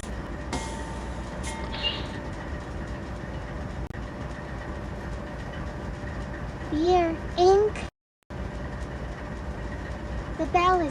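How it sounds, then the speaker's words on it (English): Train locomotives roar and cars rumble in a steady, dense wash of noise that runs almost the whole time, with a brief drop to silence near the end and a voice speaking over it. "The locomotives are roaring, and the cars are rumbling."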